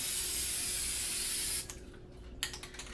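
Rust-Oleum appliance epoxy sprayed from an aerosol can onto a rusty washer and dryer, a continuous close hiss lasting about a second and a half, then cutting off into quieter rustling and a short final spurt.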